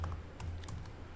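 Keys tapped on a computer keyboard while editing code in Android Studio, a quiet scattering of separate clicks spread unevenly across a short stretch with no talking.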